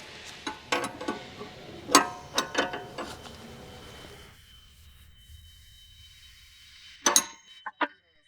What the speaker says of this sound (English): Then use the other 16mm wrench to tighten the locking nut against the body.